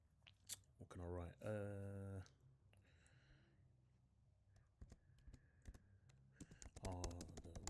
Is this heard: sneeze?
no